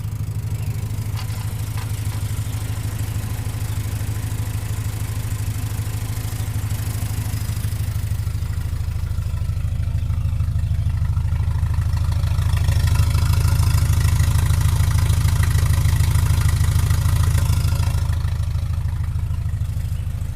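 An Opel GT engine fitted with Weber DCOE carburetors idles at about 900 RPM, a steady low rumbling drone that swells a little louder midway and holds close and continuous throughout.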